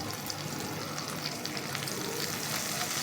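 Kashmiri red chilli sizzles in hot ghee in a small tadka pan, a steady, dense crackling fry heard close up and alone.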